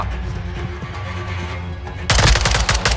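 Automatic gunfire in Call of Duty: Modern Warfare II multiplayer erupts suddenly after two seconds of low game ambience, a loud, close, rapid string of shots running to the end.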